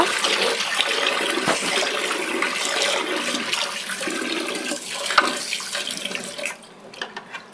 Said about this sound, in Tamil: இப்போ இதை போட்டு நல்லா நம்ம இதை வாஷ் பண்ண போகிறோம் ஒரு three times four times wash பண்ணால் போதும்